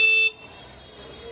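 A vehicle horn gives one short, loud toot near Juhu beach, followed by a low hum of road traffic.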